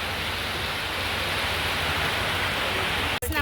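Heavy rain pours down outdoors in Pathanamthitta, a dense, steady hiss that fills the whole stretch with no voices, cutting out briefly just before the end.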